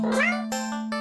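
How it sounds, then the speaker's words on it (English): Squeezed plush toy cat gives a single short electronic meow, close and clear, followed by a steady tonal hum. "You get the plushie a little squeeze in. You know, this little meow."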